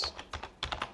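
Quick keystrokes on a computer keyboard, about eight or nine light taps in two short clusters, close and fairly quiet with no talking.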